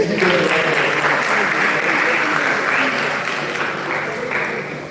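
A live event audience applauds semi-final players, a thick, loud burst of clapping right from the start that holds steady and tapers slightly toward the end, with no talk audible over it.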